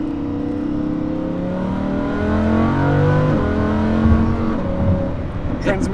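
A Lamborghini Huracan LP610-4 accelerates with its engine note rising steadily and briefly dipping on gear changes, heard from inside the car as a loud, continuous drone.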